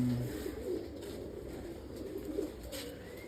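Low coos of Baba Janta breed pigeons blend into a steady background hum, soft and continuous throughout, no voices heard.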